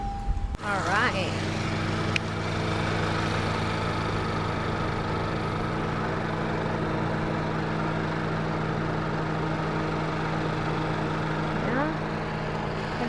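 A car engine idling steadily up close under an open hood, checked for catalytic converter noise, a constant low rumble and hum with a brief clank near the start.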